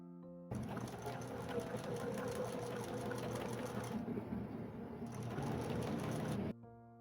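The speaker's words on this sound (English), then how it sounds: "let's get to sewing" A sewing machine stitches costume fabric with a fast, steady mechanical whir that starts abruptly, runs loud and continuous for about six seconds, then stops, with a brief shift in tone midway.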